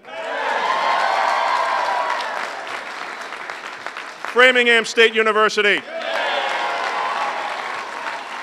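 A large audience at a Massachusetts state university signing ceremony breaks into loud sustained applause and cheering, which swells, dips briefly while a voice reads out a university name over a microphone, and then rises again.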